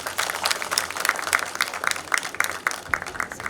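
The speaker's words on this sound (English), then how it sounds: "Let us give Vice Chancellor a big round of applause." Audience at an auditorium inauguration breaks into brief applause, many hands clapping in a lively, fairly close burst.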